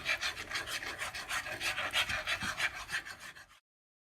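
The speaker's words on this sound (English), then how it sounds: "Just kind of gently whisk because it'll otherwise go all over the place." A whisk beating egg into a mixture for a Thanksgiving leftovers dish gives a steady rapid scraping and rasping against the bowl, close and continuous for about three and a half seconds before stopping abruptly.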